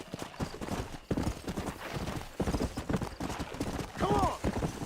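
Hooves clip-clop in quick rhythmic bursts as a horse runs in the Red Dead Redemption video game, ending with a loud neigh, with someone speaking intermittently over it.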